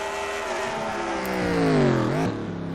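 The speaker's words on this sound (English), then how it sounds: "Coming off the final turn, Joseph Romanuk, the winner of the Santander Indy Showdown at Brands Hatch" Race cars in a racing video game at Brands Hatch, a loud close engine drone whose pitch climbs and then drops sharply as the car shifts or passes, steady and without voices.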